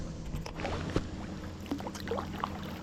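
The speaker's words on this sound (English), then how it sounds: "I've had to do a lot of paddling for this relaxing float" Kayak paddle strokes dipping and pulling through water on the Sassafras River in Maryland, soft irregular splashes and drips close by against a steady outdoor background, no talking.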